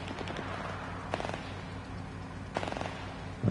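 Distant automatic gunfire in the video game S.T.A.L.K.E.R. 2 on PS5, two short rattling bursts spaced over a quiet, hissy background, fairly faint.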